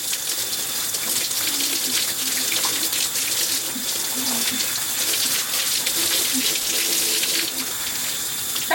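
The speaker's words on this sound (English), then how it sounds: "Now that I've rinsed a lot of the color out of my hair" Tap water runs steadily and close, gushing without pause as red dye is rinsed out of hair locs.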